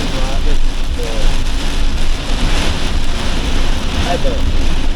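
Torrential rain pours down steadily, a dense, loud hiss of heavy drops on surfaces around a flooding road, with gusts of wind noise on the microphone throughout.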